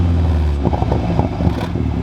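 A Mini JCW with straight pipes, tuned to about 300bhp, fires up close by: a loud, steady throaty rumble with uneven blips of revving over roughly two seconds, and no talking.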